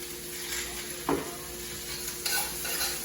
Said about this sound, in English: we're going to stir fry the vegetables around a little bit